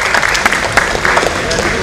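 A hall audience at a coaching institute's felicitation for a JEE Advanced achiever gives loud, dense applause, with sharp individual claps standing out throughout the short burst.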